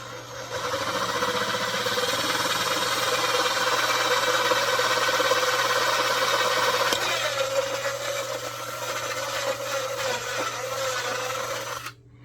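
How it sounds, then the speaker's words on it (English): A steady, grinding power drill runs continuously for about twelve seconds, drilling a hole in a 1:72 scale model submarine, its pitch dropping slightly partway through before stopping abruptly. "Just drill that in, not very carefully, nice and slowly."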